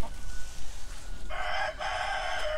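Chickens and a rooster in a farmyard poultry house in the Krasnodar region: low clucking under faint background noise, then a loud near rooster crow that breaks off briefly and resumes.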